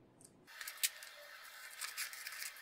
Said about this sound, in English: So in this case, I need to cut on this edge.